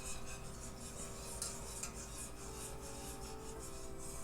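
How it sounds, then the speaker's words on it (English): A spoon continuously stirring a homemade personal lubricant mixture in a pot on the stove, making a quiet, steady scraping and rubbing against the pot with no voices. "we're going to be stirring this constantly"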